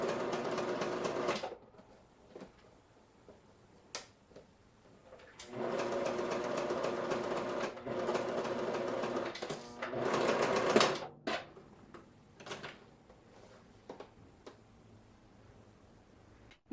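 A sewing machine stitches a concealed zip into wide-leg pants, its motor whirring in several bursts of a few seconds each, broken by pauses with light clicks and handling noises.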